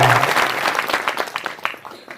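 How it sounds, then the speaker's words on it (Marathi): Loud applause from an audience at a Marathi devotional kirtan discourse, dense clapping that starts strong and gradually thins and fades over a couple of seconds. "जोरात टाळ्या वाजवत"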